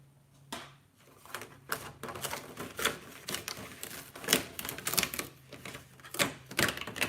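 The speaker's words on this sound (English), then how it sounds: "moves while my scan and cut machine is cutting" A Brother ScanNCut machine cuts a birthday card, giving a busy mechanical clatter of rapid ticks and small carriage movements with a faint steady hum underneath, near and continuous throughout.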